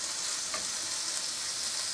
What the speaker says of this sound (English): Now, the reason why I'm frying the bacon